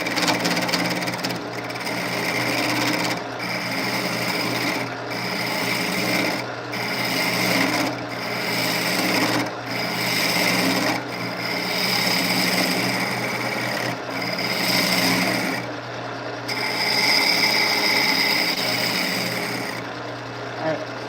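A wood lathe turns a segmented bowl while a tool cuts it, producing a continuous scraping, rasping drone broken by brief regular pauses every second or so, loud and close, with no talking.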